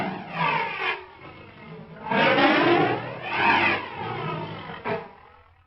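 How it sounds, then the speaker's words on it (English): A tiger roars and growls in several rough, rising-and-falling bursts, loud and close with no other sounds. "The tiger says."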